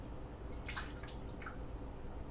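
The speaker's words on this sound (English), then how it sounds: "And what I'm going to do is just pour the liquid in." Lilac-infused water is poured through a small funnel into a sample-size travel spray bottle, giving a soft, close trickle with a few light drips over about two seconds, with no talking.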